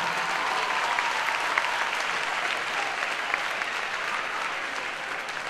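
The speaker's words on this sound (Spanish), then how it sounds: "Más fuerte el aplauso, venga, que se oiga." A crowd at a drag queen gala in Corralejo claps in a continuous, dense wash of applause. It runs steady and fairly loud from start to finish with no talking over it.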